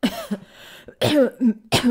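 A woman coughs in several short, harsh bursts separated by brief pauses, close and fairly loud.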